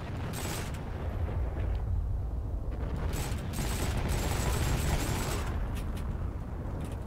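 A Thompson submachine gun in the Heroes & Generals video game fires in dense, rapid bursts, with loud continuous gunfire and rattling mechanical noise filling the whole stretch.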